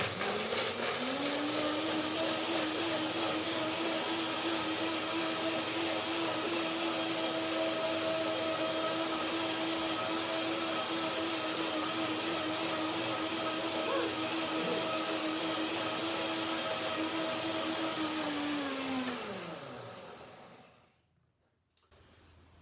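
A blender whirs loudly and steadily through cashew dressing for about twenty seconds, its motor pitch holding constant before spinning down and cutting off near the end.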